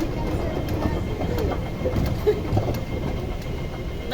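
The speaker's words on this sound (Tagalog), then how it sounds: "Dito kami sa tren." Train rolling along rails with a steady low rumble and faint rhythmic clatter, a few light clicks and squeaks on top.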